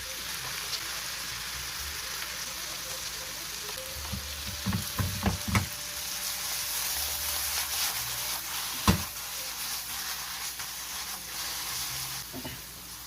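Spinach, jalapenos and oyster meat sizzle steadily in a hot pan, a continuous crackling hiss with a few sharp stirring clatters and utensil taps midway.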